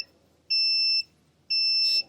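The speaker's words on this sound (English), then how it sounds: "This is my water sensor. I'm going to dry it off so it stops beeping." A shrill electronic water leak sensor alarm beeps twice in a slow on-off pattern, each tone about half a second long, loud and close.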